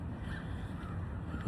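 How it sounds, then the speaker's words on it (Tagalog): A crow caws outdoors among trees on a cold spring day in Canada, its calls clear and fairly close over a steady low rumble of wind or distant traffic. "Oh, may uwak."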